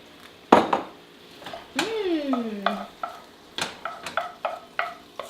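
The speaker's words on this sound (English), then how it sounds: "Stir that in." Soy sauce is stirred into a homemade Szechuan sauce, with a sharp utensil knock, a sweeping swirl through the liquid, then a series of light taps and scrapes against the pan, close up and otherwise quiet.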